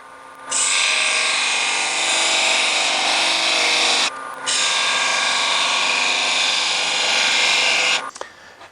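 A wood lathe at about 1,400 RPM spins while a thin oak scrap is pressed against the turning bowl to burn lines, giving a loud, continuous friction hiss in two long passes with a short break between.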